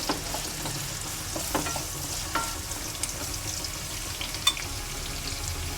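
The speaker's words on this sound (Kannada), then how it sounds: "ಚೆನ್ನಾಗಿ ಫ್ರೈ ಮಾಡ್ಕೊಳ್ಳೋಣ ಇದನ್ನು." Onions and green chillies fry for egg rice with a constant crackling sizzle, close to the pan, dotted with small pops and light spatula taps, steady throughout with no speech.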